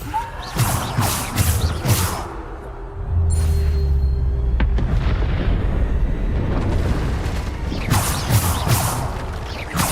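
Hogwarts Legacy gameplay with Bombarda spell blasts: a sustained rumbling explosion swells midway, framed by sharper bursts and pops at the start and end, loud and close.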